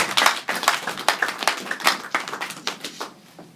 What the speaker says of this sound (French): Est-ce qu'on peut applaudir pour le Seigneur béni?